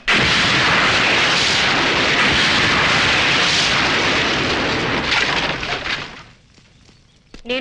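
A firecracker blast on Diwali in a Telugu comedy film scene erupts as a loud, dense roar of crackling explosions that holds for about six seconds before dying away.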